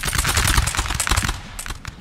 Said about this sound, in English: Over here my troops are opening up fire on the grenadiers advancing